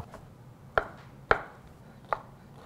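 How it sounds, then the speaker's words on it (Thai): A knife chops oyster mushrooms on a cutting board, three sharp, distinct strikes spaced unevenly against a quiet kitchen background. "สำหรับตัวไส้คาเนโรนี่นะครับผมก็จะใช้เป็นเห็ดออรินจินะครับ เดี๋ยวเราจะหั่นให้เป็นเตา"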